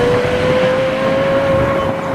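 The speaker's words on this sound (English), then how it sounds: "That is the best sounding car I've ever heard in my life." A Lexus LFA supercar's engine drones loud and close in normal driving mode, holding a steady tone without pause for the short stretch.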